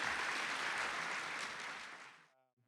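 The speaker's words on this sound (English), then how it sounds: "How about a fantastic round of applause for Jeff Matt?" Audience clapping together after a speaker's introduction, a dense steady round of applause that fades out over a couple of seconds, with a voice starting at the very end.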